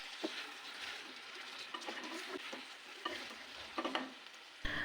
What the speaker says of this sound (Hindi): अब चिकन को मैं प्याज के साथ थोड़ा सा बस फ्राई करूंगी